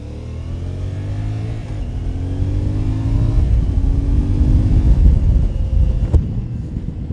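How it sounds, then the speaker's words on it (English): A CF Moto 450 MT 450cc parallel-twin adventure motorcycle accelerates steadily through rising engine tones. Heavy wind buffets the microphone throughout, with a sharp click near the end. "Like for a 450cc bike, like a 450 twin, it cruises pretty easy."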